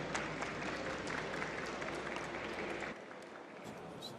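An audience at a Brazilian engineering panel on PROCONVE P8 emissions development applauds in steady, even clapping that eases off slightly toward the end.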